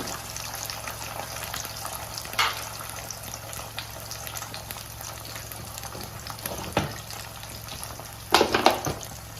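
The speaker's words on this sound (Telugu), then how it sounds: "అవి వేగిన తర్వాత 4 ఎగ్స్ కానీ 5 కానీ 6 కానీ ఎగ్స్ వేసుకొని వాటిని కొంచెం వేగనివ్వాలి" Eggs fry in a pan for a garlic egg curry, giving a soft, low sizzle with a few brief scrapes and clinks of stirring near the end. No voices are heard.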